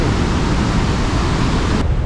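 Heavy water rushes and thunders at the Iguazu Falls, a dense, steady, loud roar that fills the whole moment without pause or voices.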